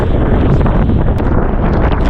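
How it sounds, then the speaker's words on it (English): Strong gusts of Hurricane Milton roar across the microphone beside a lakeside deck with a floating dock in The Villages, Florida, making a loud, steady broadband rush with no pauses. "windy out here"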